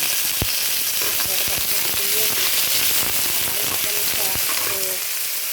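Onions and garlic sizzle steadily in hot oil, a loud, continuous close-up frying hiss with sharp crackling pops scattered throughout, while a voice speaks faintly in the background.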